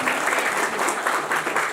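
Audience applause at a Balinese bondres comedy show, a loud, continuous wash of clapping hands from a lively crowd, sustained without a break.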